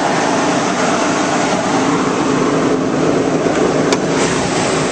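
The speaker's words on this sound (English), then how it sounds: "This Jeep sounds great and it runs very smooth." A 2009 Jeep Grand Cherokee engine runs at a steady idle, a smooth, continuous broadband drone heard up close with no voices over it.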